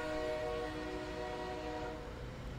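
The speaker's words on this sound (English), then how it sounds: "Train started leaving the last station after he left." A train pulling out of a station, heard as a steady, loud mix of tonal horn-like droning and low rumbling rail noise that holds for a few seconds with no talking.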